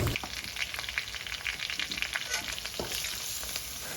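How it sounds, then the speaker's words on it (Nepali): Loud, steady sizzling of onions frying until lightly browned in a hot pan for chicken soup, with occasional stirring scrapes, no voices. "प्याजलाई चाहिँ हल्का रातो हुने गरी चाहिँ भुट्नुपर्छ"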